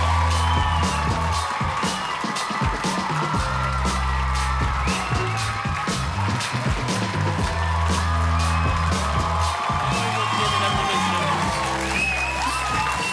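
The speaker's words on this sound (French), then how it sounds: "Veuillez applaudir Monsieur Jean-Paul Gaultier." A studio audience greets Jean-Paul Gaultier's entrance with sustained, dense applause and cheering, a continuous loud wash of clapping and whoops with music underneath.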